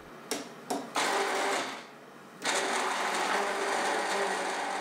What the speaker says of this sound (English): Mix it in a blender for a few seconds.